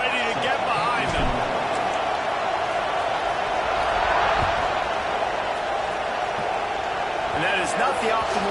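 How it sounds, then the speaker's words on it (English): A college football video game stadium crowd roars in a dense, constant wash at kickoff, with a few sharper thumps and whoops rising out of it. "this crowd now ready to get behind them"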